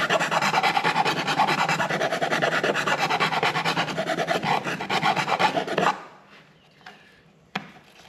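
Plastic air box vent holes on a DR-Z400 being reamed out make a fast, rhythmic rasping scrape, close and loud, that stops abruptly, followed by a few faint clicks and a brief knock.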